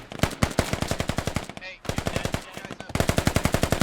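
Sustained automatic covering fire in a military video game about militia defending a bunker base against Russian ground forces, rapid evenly spaced loud bursts with a brief pause in the middle before resuming.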